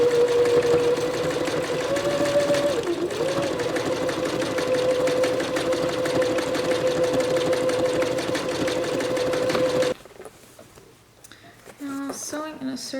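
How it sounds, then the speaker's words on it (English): A sewing machine stitches straps around a circular piece in a long, steady, close mechanical whir with a rapid needle rhythm. It stops near the end, when a voice speaks. "Sewing in a circle is not fun."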